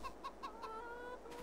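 Chickens cluck softly nearby in a short run of four quick, evenly spaced clucks, followed by a brief, quieter murmur.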